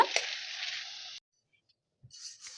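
Batter frying in hot oil over a medium flame for pesarattu, a bright crackling sizzle that cuts off abruptly, then after a short silence a softer sizzle resumes.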